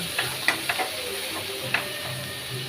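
Green chillies fry in oil in a pan with a steady broadband sizzle, a few sharp spoon clinks and stirring knocks rising above it close by, no voices.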